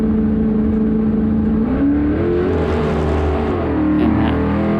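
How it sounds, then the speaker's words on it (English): A Mazda drag car with a 347 engine spins its wheels and hazes the tyres on track, a steady loud engine drone with a rising and falling whine sustained throughout. "that horrible noise is kind of the car just spinning the wheels and hazing the tyres"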